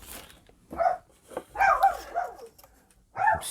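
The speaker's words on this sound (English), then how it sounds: "I'm sorry about the dog barking." A dog barks in several short bursts with gaps between them. It sounds moderately close and has a growly edge.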